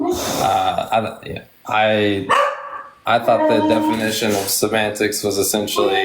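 A pet dog barks in short bursts during a live debate conversation, partly masked by the ongoing talk of the people speaking.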